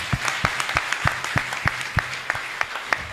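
A church congregation bursts into applause, a dense wash of many hands clapping with steady rhythmic accents roughly every third of a second, moderately loud and continuous throughout.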